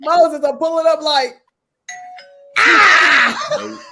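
A two-tone electronic doorbell chime played on a phone sounds alone after a burst of talk, then loud laughter and chatter erupt over it.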